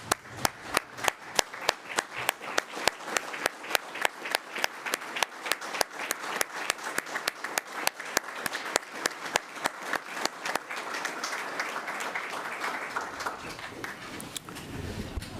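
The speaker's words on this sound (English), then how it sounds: "we'd like to recognize you at this time and give you an applause" Applause at a county commission meeting, honoring a retiring official, as the room claps steadily for about thirteen seconds in even, closely spaced claps before the sound thins and fades.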